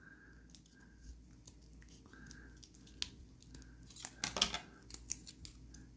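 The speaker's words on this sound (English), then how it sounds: "the smart way to do this is get some scissors and cut through it" Scissors snip and crunch through stiff plastic packaging around a Toyota key fob, a series of close, sharp cuts and crinkles that cluster into a louder burst of snipping near the end, faint background otherwise.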